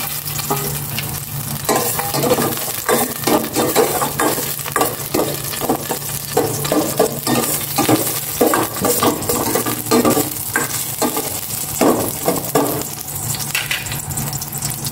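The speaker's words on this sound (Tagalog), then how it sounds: "Gisa ko na itong bawang." Garlic sautéing in cooking oil in a home kitchen, a steady loud sizzle with repeated scraping stir strokes of a utensil against the pan throughout, no voices.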